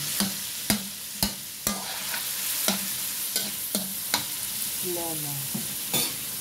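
A mixture being stirred in a bowl, with about a dozen sharp utensil clacks against the rim at an uneven pace over a soft, steady scraping hiss.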